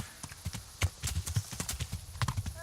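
Horse hooves clip-clop in Kingdom Come: Deliverance, a steady, fairly close rhythm of repeated hoof strikes with a brief whinny near the end.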